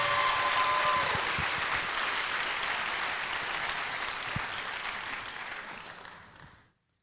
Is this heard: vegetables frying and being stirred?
no